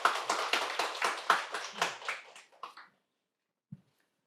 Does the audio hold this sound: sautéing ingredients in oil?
no